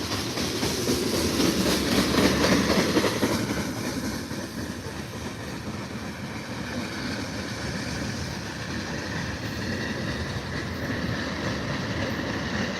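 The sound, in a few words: Amtrak California Zephyr passenger train arriving at station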